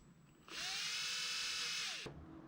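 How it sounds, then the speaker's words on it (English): Power drill with a 6mm bit pilots a hole in a corn cob fishing lure; the motor spins up sharply, whines steadily at close range for about a second and a half, then winds down and stops. "So I'll pilot that hole"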